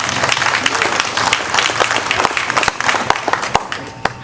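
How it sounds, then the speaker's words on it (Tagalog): A crowd at an inaugural and thanksgiving gathering applauds with dense, continuous clapping, close and fairly loud, tapering slightly toward the end with sharper individual claps standing out. "Salamat sa inyong palakpak."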